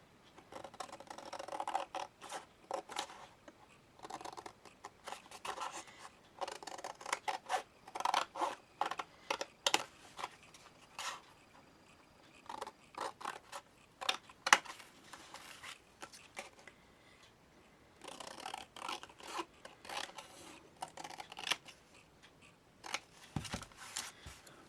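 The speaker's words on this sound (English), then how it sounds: "And then I can cut that out." Scissors snip through paper to cut out a tag shape from a recycled envelope, with quiet, irregular bursts of crisp cutting and rustling close to the microphone and short pauses between strokes.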